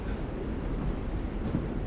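A train rumbles steadily and low throughout this scene from The Walking Dead Telltale video game, a continuous dense drone with no breaks or voices.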